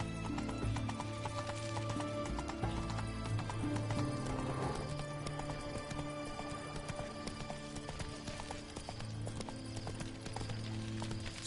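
Horse hooves galloping in The Witcher 3, a steady run of clip-clop beats with a whinny, set against the game's layered music and ambience throughout.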